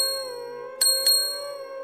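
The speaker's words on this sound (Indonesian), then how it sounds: "dari kejauhan, terdengar suara lonceng kecil" A small bell rings twice, a quick pair of bright tinkling strikes over a steady sustained tonal drone, in a quiet, eerie setting on a road overhung by low tree branches.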